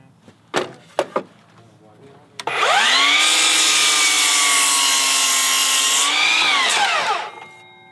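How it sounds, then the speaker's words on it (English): Power saw making a crosscut through a deck board treated with Cutek stain, preceded by a few sharp knocks; the blade whines up, cuts loudly and steadily for about four seconds, then winds down. "So I'm gonna cut a cross cut on this"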